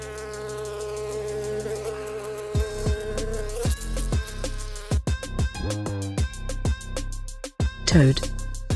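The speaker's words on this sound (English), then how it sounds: "Honeybee." A honeybee buzzes in a close, wavering drone that rises and dips in pitch, broken by a few short sharp accents and continuing loudly to the end.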